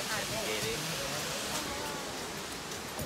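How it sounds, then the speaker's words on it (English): Steady broadband rush of a waterfall on a hiking trail in Hocking Hills, faint and continuous at a distance, with a voice briefly speaking over it. "it's a waterfall"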